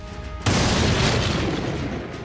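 An anti-tank gun fires on a tank in a single loud, deep boom that lands suddenly after a brief quiet lead-in, then rumbles on with a long, heavy sustain to the end.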